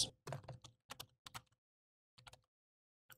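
Someone types on a computer keyboard in short bursts of rapid clicks separated by pauses. The keys sound close but quiet, and no one speaks.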